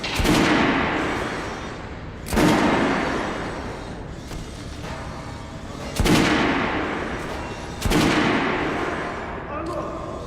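Heavy gunshots crack out on a shooting range in the video game Metro Last Light Redux, four loud blasts roughly two seconds apart, each followed by a long echoing tail over a steady background rumble.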